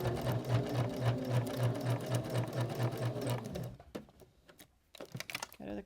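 A sewing machine stitches through vinyl on a luggage tag holder in a rapid, even mechanical rhythm, close up. It stops, and a few short bursts of stitching follow after a pause.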